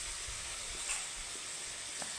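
Ginger garlic paste sizzles steadily in a hot pan, a continuous bright frying hiss with faint stirring ticks, close and alone.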